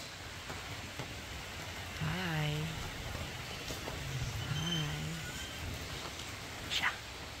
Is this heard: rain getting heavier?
yes